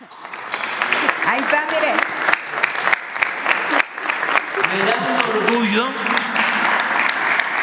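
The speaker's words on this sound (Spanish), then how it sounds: "Otro aplauso para la presidenta." Applause for the president at a press event, dense sustained clapping throughout with people talking loudly over it.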